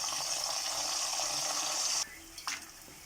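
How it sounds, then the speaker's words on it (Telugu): Turmeric and salt water is poured over banana slices frying for banana chips, a dense hissing, bubbling rush for two seconds that suddenly cuts off, followed by softer sputtering. "వీటిపైకి పసుపు ఉప్పు నీళ్ళు కలుపుకొని వేస్తున్నాను"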